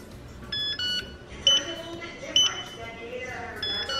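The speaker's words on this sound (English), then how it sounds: "press and hold the side button on the lock until you hear two beeps." Yale smart lock emitting electronic beeps during pairing setup, short tonal bleeps heard several times at moderate level over faint background noise.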